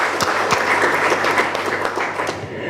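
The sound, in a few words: audience clapping to appreciate a supporter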